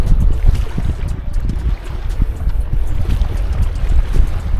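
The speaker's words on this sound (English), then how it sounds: "And the wind for sure is not helping at all." Wind gusting outdoors beside cold water in Switzerland, a steady, loud low rumble of buffeting air across the microphone throughout, with no voices.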